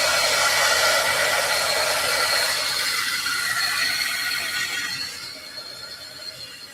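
A hair dryer blowing on a freshly painted craft piece, a loud steady close whoosh with a high airy hiss that eases slightly toward the end.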